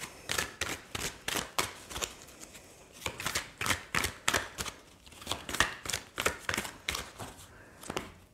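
A deck of oracle cards is shuffled again and again, crisp riffling bursts repeating in a quick regular rhythm, close and fairly soft, with brief pauses between runs.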